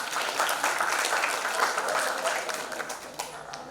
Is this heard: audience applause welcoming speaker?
yes